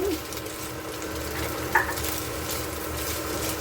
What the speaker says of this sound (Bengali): কেটে রাখা আলুগুলো দিয়ে দিলাম, আর একসাথেই যেহেতু ভাজবো সয়াবিনগুলোও দিয়ে দিলাম